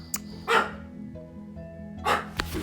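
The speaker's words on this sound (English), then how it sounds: "sorry about that, dog again" A dog barks close by in a home where someone is painting with acrylics: a short bark, then a louder one, a pause with a faint whine, and two more barks near the end.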